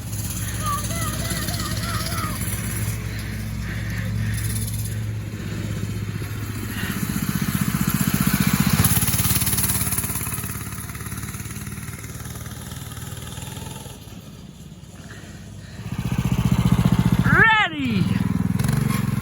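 A Baja Warrior mini bike engine runs steadily and fairly loud, with its drone swelling and easing over time, a brief rising rev near the end, and background voices.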